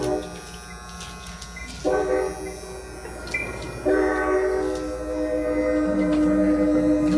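An Atlas N scale model train rolls along with a soft rail rumble while its electronic horn sounds two sustained, tonal blasts, then a lower tone continues near the end.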